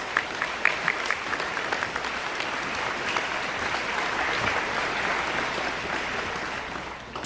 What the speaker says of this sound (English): Let's give them a round of applause, shall we?